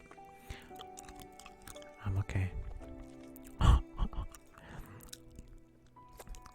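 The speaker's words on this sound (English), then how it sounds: "I'm just chewing on it right now, actually." Quiet, close-up mouth sounds of chewing and biting on an object during a livestream, with soft wet squishes and a few sharper bites standing out against low background noise.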